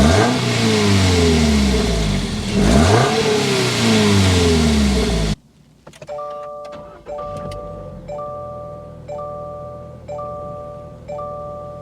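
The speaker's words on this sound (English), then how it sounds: "start it up, so you can hear that exhaust note" A 2024 Toyota GR86 Trueno Edition sports car revs hard, its exhaust rising and falling loudly for several seconds, then drops to a quieter idle while a repeating electronic chime sounds inside the cabin.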